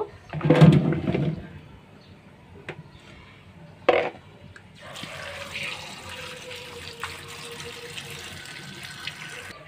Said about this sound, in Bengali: আর এখন মিষ্টি কুমড়াটা আমি ধুয়ে নেব।